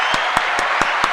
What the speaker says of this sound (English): Let me give them another round of applause.